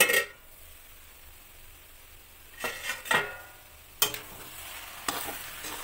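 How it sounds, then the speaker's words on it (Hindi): Grated carrots for gajar halwa roast in a pan over a medium flame, with a quiet, steady sizzle broken by a few scraping stirs of a spatula against the pan. "इसे अच्छे से और भूनने देंगे।"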